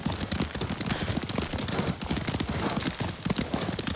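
Rapid clip-clop of a galloping horse in the video game Ghost of Tsushima, a loud continuous drumming of hooves mixed with wind and ambient game sound, with no talk.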